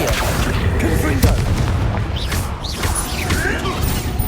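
Confringo fire-blast spells in Hogwarts Legacy boom and crack amid dense, continuous battle noise, with repeated impacts layered over a busy game soundtrack and a voice talking in the background.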